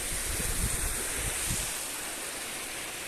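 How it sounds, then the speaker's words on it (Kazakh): Water flows out of the ground in sandy terrain, giving a steady broadband rush with some gusty low rumbling in the first half before it settles into an even hiss. "Жақта су ағып отыр"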